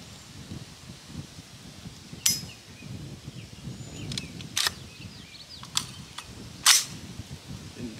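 A 6mm ARC rifle fires downrange on an outdoor range: several sharp, fairly distant cracks ring out at irregular intervals over steady wind and low background rumble.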